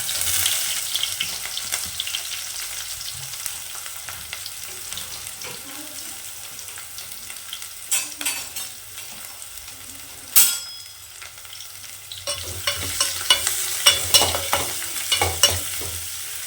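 Onion frying after cumin and mustard seeds in a pan for a palya, a steady sizzle with occasional scraping strokes that become busier and louder toward the end, no voices.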